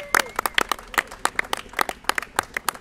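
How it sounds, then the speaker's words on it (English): Scattered, sparse clapping from a small outdoor crowd at a bridge ribbon-cutting ceremony, each clap distinct and sharp in an irregular rhythm, fairly faint. "Let's give a round of applause for that."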